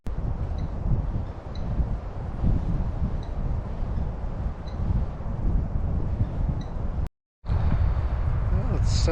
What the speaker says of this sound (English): the wind is just pounding today